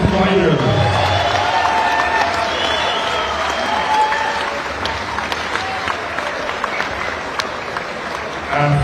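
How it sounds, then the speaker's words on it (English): A crowd applauds two boxers after a twelve-round world title bout, steady clapping with scattered cheers and whoops, while an announcer's voice carries over the arena noise near the start. "may we please have a round of applause to these two fighters"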